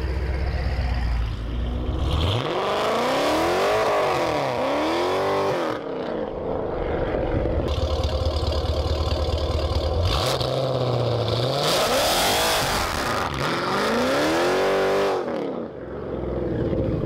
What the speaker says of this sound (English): include some sound clips of how the car sounded just with the mid muffler delete and then with the headers